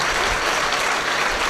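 A church congregation claps their hands in praise, dense sustained applause from many people filling the room without a break.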